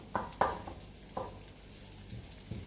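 Onions frying in olive oil in a pan for chorizo and prawn pasta, a soft low sizzle broken by a few sharp utensil scrapes and taps against the pan.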